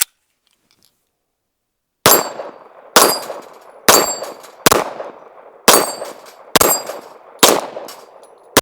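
An Archon Type B Gen 2 pistol fires CCI Blazer 115 grain ammunition outdoors at a range: eight loud, sharp shots at a steady rhythm, each ringing briefly, after a short quiet start.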